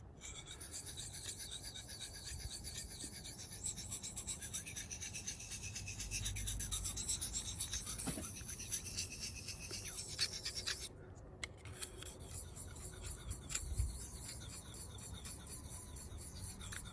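Steel knife blade rubbed back and forth on a whetstone while setting a bevel, a steady close rasping scrape in continuous strokes with a few brief pauses.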